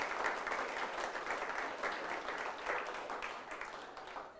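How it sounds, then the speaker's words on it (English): Audience at a New Zealand tech awards event in Auckland applauding finalists, a sustained, even wash of many hands clapping in a large room, moderately distant and without voices over it. "A big round of applause to all of them."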